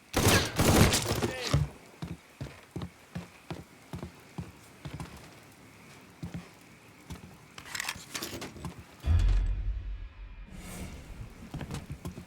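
Gunfire in the video game Mafia 3 Definitive Edition, loud bursts of close shots at the start and then a run of sharp single shots and spaced volleys, with a heavy boom near the end and voices now and then.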